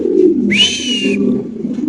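A pigeon's soft cooing under a steady low murmur of background sound, with a single brighter drawn-out call rising partway through.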